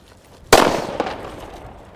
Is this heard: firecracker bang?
yes